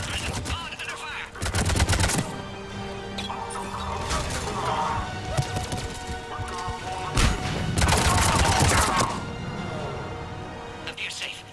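Gunfire from the Mass Effect 3 video game: sustained bursts of rapid shots and crashes run densely through a loud battle, with in-game voices speaking over the din.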